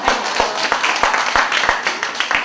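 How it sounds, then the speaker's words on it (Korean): Steady rhythmic clapping from a lecture audience, a few hands beating together at an even pace, fairly close. "박수 한번 주세요."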